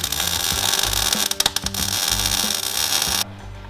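Power tool driving bolts to fasten winches onto a rat rod wrecker, a loud continuous mechanical whir with brief rattling impacts midway, then cutting out near the end.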